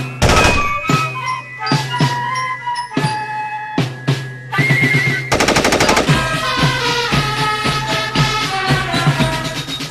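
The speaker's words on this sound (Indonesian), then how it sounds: "senapan mesin ringan atau SMR Madsen" A Madsen light machine gun fires loud, sharp short bursts at first, then a dense sustained volley of rapid shots.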